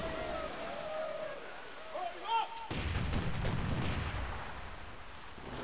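A ship's cannon booms in the video game Sid Meier's Pirates, a loud, rumbling blast that follows a short whistling sound effect.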